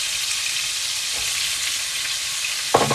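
Chopped leeks fry in a pan with a steady, close sizzling hiss, and a short clatter of stirring comes right at the end.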